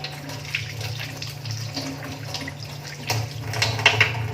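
Water runs from a tap with soft splashing as hands are rubbed and rinsed beneath it.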